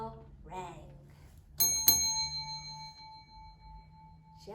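A bell rings twice as a lunch bell in a staged skit, two sharp metallic strikes leaving a long, clear ringing tone, with a voice speaking just before.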